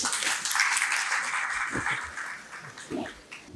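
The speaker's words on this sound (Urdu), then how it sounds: "آپ لوگوں کی بہت ساری تالیوں میں خاموشی مت رکھیے, تالیاں بجائیے" Applause from an audience at an Urdu literary award ceremony during a conference in Karachi, a loud burst of clapping that gradually thins and fades, with faint voices and a few low thumps near the end.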